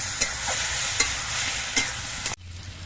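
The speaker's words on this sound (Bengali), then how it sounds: "এবার সব কিছু দিয়ে আলু দিয়ে কষিয়ে নিতে হবে" Potatoes, spices and slit green chillies stir-fry in a pan, giving a continuous sizzle with a few scraping stirs, before the frying abruptly drops to a quieter hiss.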